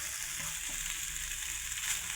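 Cooked rice and vegetables fry in a pan for chicken rice, a faint, steady hiss of frying with light stirring, heard briefly and alone.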